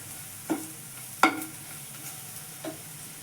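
A few soft scraping stirs of coriander-cumin and coriander powder frying in a pan for a Gujarati tuver totha dish, with a faint sizzle between sparse, separated strokes.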